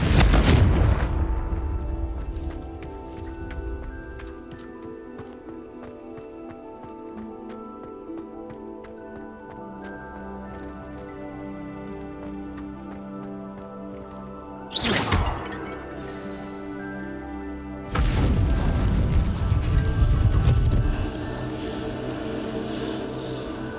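In Hogwarts Legacy, a Confringo fire spell produces heavy booming blasts: one loud burst at the start, a sharp hit near the middle, and a big explosion toward the end, with ringing tones between them and no voices.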